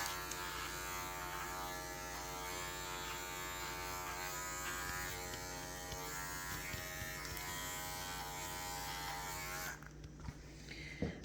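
Electric clippers buzz steadily and close up while shaving the hair on a poodle's foot, a constant motor whine that cuts off near the end.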